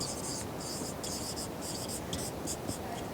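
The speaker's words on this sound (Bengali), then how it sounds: "সেটা লিখছি এখানে" Marker or chalk strokes scratch across a classroom board during an English grammar lesson, a series of short squeaky bursts over a steady background hiss.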